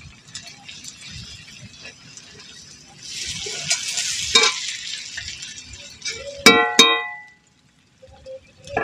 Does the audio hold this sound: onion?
yes